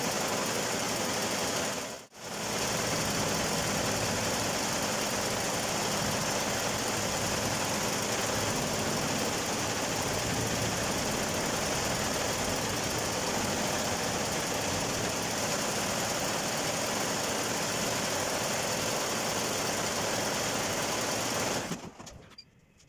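Embroidery machine running with a continuous, dense mechanical whir and rapid rhythmic stitching, broken only by a momentary dip early on, then steady until it stops near the end.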